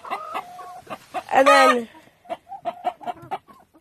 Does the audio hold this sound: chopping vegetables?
no